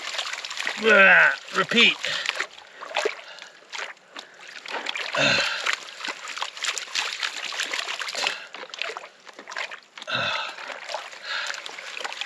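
Water sloshing and splashing in a gold pan as it is washed and rinsed in a river or creek, swirling in uneven bursts, with someone talking over it.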